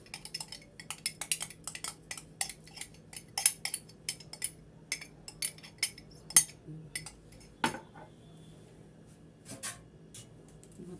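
A utensil whisks ghee and oil together in a bowl, making a run of quiet, irregular clinks and taps against the sides with short pauses between strokes.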